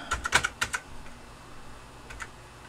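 Keys clacking on an Apple IIc computer keyboard, a quick burst of crisp taps at the start and a couple more strokes near the end, close and moderately loud with no voices.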